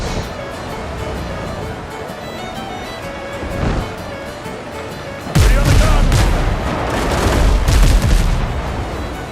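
Ship cannons firing in the Windrose pirate video game, a heavy boom that cuts in partway and leaves a rumbling, crackling barrage over a sea-like wash, with a voice talking through the game audio.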